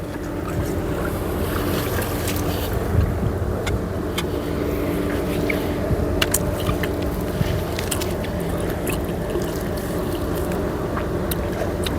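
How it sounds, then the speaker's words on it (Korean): Strong wind gusting across open water by the shore, a steady broadband roar with a low rumble running the whole time, alone with no talk. "또 바람이 또 많이 부네요."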